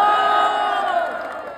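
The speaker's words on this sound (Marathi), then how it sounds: "त्यांच्यासाठी जोरदार टाळ्या" A large festival crowd cheers and roars loudly for a Govinda pathak (Dahi Handi human-pyramid troupe), a sustained wall of shouting that slowly fades.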